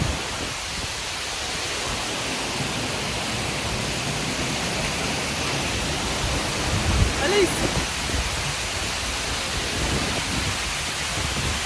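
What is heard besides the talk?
waterfall crashing water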